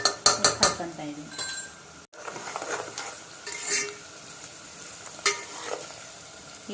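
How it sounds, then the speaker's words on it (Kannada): Salted onions sizzle in a pan as they brown. A quick run of metallic clinks opens the sound, then the spoon scrapes and taps now and then over steady frying. "ಇದು ಚೆನ್ನಾಗಿ ಫ್ರೈ ಆಗಲಿ, ಕಂದು ಬಣ್ಣ ಬರೋವರೆಗೂ."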